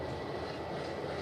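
A continuous, fairly loud roar from the steam engine Tangmere, No. 34067, working the Border City train in heavy rain, holding level from start to finish without talk.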